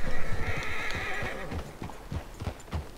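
Horses whinny and hooves clip-clop in the Western video game Red Dead Redemption, a loud neigh at the start followed by a steady rhythm of nearby hoofbeats.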